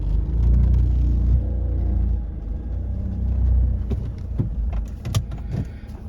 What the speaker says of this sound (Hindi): पहले गियर पे थोड़ा एक्सेलरेटर दबाया, गाड़ी चढ़ा दी, चढ़ रही है